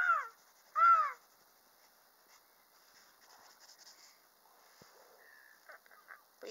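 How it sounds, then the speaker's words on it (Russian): Gulls call at Lake Ladoga, two loud harsh, caw-like cries close together at the start, followed by quieter scattered rustles and faint distant calls. "Чайки проснулись, они нам спать не дадут."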